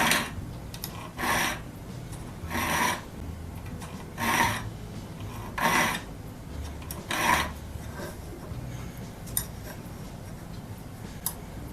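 Rhythmic rasping strokes of a file sharpening the spurs of an auger bit, about seven close, evenly spaced bursts with quiet gaps between, no talking.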